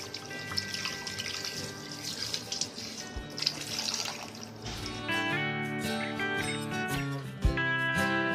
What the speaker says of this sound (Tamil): இது நீட்டாக நம்ம வந்து தண்ணியில் கழுவிக்கலாம்